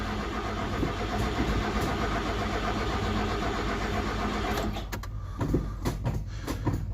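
A Polski Fiat 125p engine turning over and catching, a continuous close mechanical drone that shifts partway through into a rougher running note with clicks and knocks.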